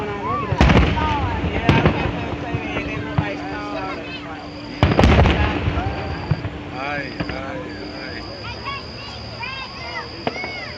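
Fourth of July fireworks exploding outdoors at night, two loud sharp gunshot-like bangs echoing near the start and middle, with crackling pops and people talking and whistling in the background.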